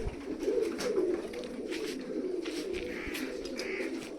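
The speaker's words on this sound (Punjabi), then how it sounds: "ਛਤਰੀ ਦੇ ਕਬੂਤਰ ਬੈਠੇ ਨੇ ਆਪਣੇ" Pigeons perched on a rooftop loft coo in low, rolling, continuous calls, close and moderately quiet, with no voices.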